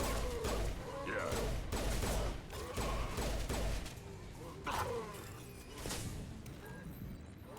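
Gunfire in Mass Effect 2, bursts of rapid shots and mechanical clatter in repeated volleys, fairly loud with a dense, busy texture throughout.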